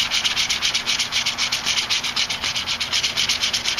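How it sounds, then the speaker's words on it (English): Quick, light strokes of sandpaper over a rough spot on a leather strop, a close, even rasping rhythm of rapid back-and-forth rubs with no voices. "I just take my sandpaper and lightly go over it"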